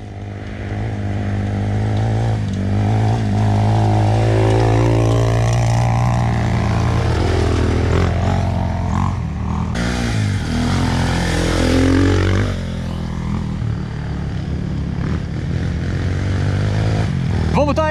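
Trail motorcycles at a trail riders' meet rev and accelerate loudly for the whole stretch, engines rising and falling in pitch as they pull away, with voices and crowd noise mixed in.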